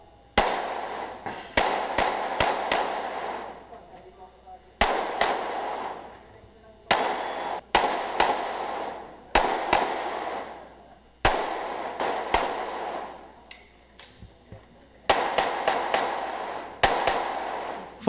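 Sharp gunshots crack out one after another in irregular bursts at a police firing range, each followed by a ringing echo, loud and close with pauses between volleys.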